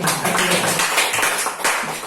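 A teachers' gathering gives a warm round of clapping for two teacher candidates, dense, steady applause from a group filling the room for a couple of seconds.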